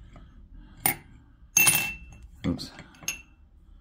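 Whiskey glasses clinking together, a few short bright chinks spaced over a few seconds, close and fairly quiet, with a brief spoken exclamation.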